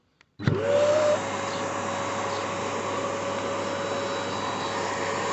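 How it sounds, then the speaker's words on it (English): A loud electric air pump inflating an inflatable hot tub kicks on abruptly after a brief click and drones steadily, a constant whirring blower hum that continues unchanged. "we press the bubble button to inflate the spa, so there'll be a bit of noise now"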